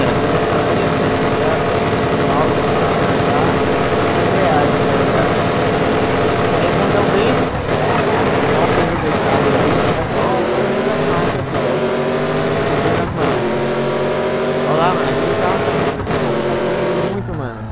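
Car engines in the racing game No Limit 2.0 drone steadily at idle and build under acceleration, with repeated brief drops and shifts in pitch over nearly eighteen seconds, loud and continuous, while someone talks over them.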